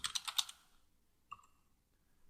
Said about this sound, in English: Oh, look at that typing.